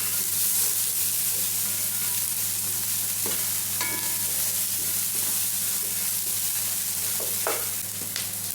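Onion and garlic frying in a pan for garlic fried rice, with a steady close sizzle and occasional scraping clicks of stirring over a constant low hum, with no talking.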